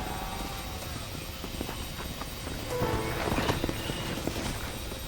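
Horse hooves clip-clop at a gallop in a Western video game, a steady rhythmic pounding under a dense wash of ambient noise that swells slightly toward the end.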